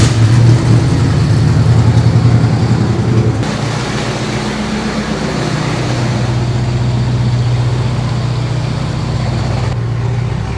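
A Chevrolet C10 pickup truck cruises along the road, its engine droning steadily at medium pitch with a shift in tone partway through, loud and close with road rumble and no talking.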